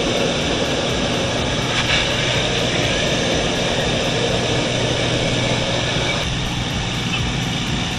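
A steady, loud airplane roar fills the whole stretch, a dense unbroken engine drone like the inside of a cabin in flight.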